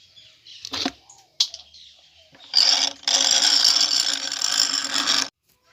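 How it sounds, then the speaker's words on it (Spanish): Washed corn being ground in a hand mill, a grinding crank with a couple of short clicks, then a long loud harsh steady milling rasp that stops abruptly, close with no talking. "Aquí lo molí en este molino de mano."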